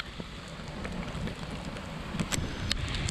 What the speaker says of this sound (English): There we go, it's raining pretty good right now.